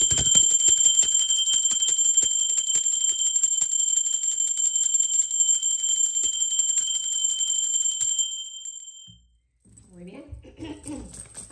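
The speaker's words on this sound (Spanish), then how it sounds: "Ahora sí, va campana." A bell rings with a bright, sustained metallic tone that slowly fades away, followed by soft, low sounds at the end.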